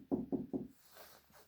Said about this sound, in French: En frappant comme ça dans la porte